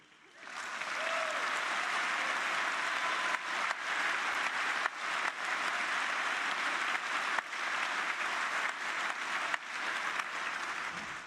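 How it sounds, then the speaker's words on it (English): An audience applauds at length, a dense, steady wash of many hands clapping that holds at an even level throughout with no voices standing out. "But you're actually applauding the wrong people"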